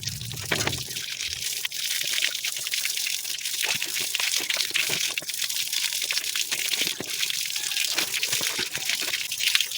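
Water splashing and trickling as a household water tank filter is rinsed, a busy stream of drips and gushes close up, continuous with scattered sharper splashes.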